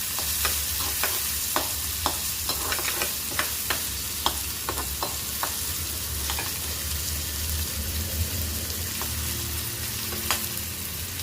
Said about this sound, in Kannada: ಈರುಳ್ಳಿ ಹಾಕ್ಕೊಂಡು ನಿಧಾನ ಸೌಟಲ್ಲಿ ತಿರುಗಿಸ್ಬೇಕು